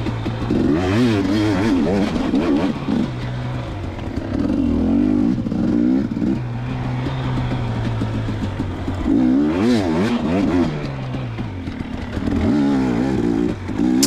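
A 2019 KTM 250xc two-stroke dirt bike on a practice lap, revving up and down repeatedly through gear changes, loud and close with rising and falling bursts of throttle.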